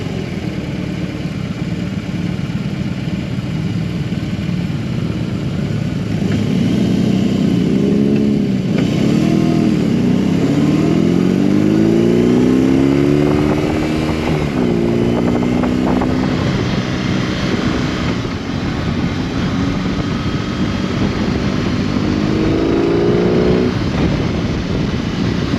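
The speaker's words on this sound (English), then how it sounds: "It's a big 2-cylinder boxer engine." A 2022 BMW R18B motorcycle's big two-cylinder boxer engine revs up through several gears, its pitch climbing and dropping in repeated sweeps over a steady road and wind rush, loud and close, with no talking.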